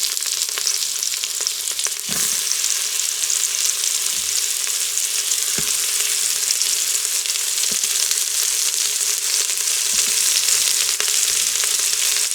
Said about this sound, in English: So I'm just gonna throw in the onions.